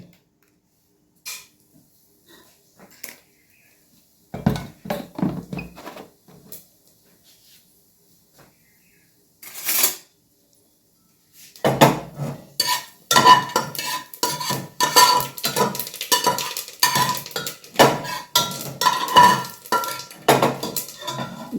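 Cumin seeds and a bay leaf stirred in a hot pan for raw papaya curry, giving sparse metallic scrapes and clinks at first, then a dense run of rapid spoon-on-pan scraping and faint crackle, with no talking.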